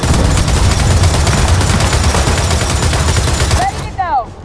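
Sustained, rapid turret gunfire roars close and loud in Gears of War 4, a dense unbroken barrage that cuts off near the end, leaving a few brief whistling and sliding effects.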